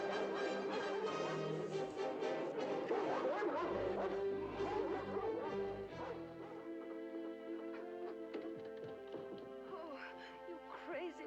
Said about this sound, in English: Wonderful dog.